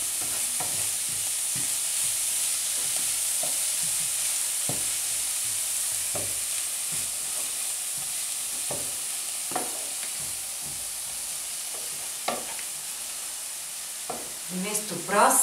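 Garlic fries with a constant bright sizzle in a pan for meatless cabbage rolls, while a spoon scrapes and stirs it in scattered close clicks and strokes.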